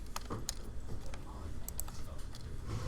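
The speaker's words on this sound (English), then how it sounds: "let's type it in" Computer keyboard typing, a handful of light, scattered keystroke clicks over a low steady background hum, quiet and close.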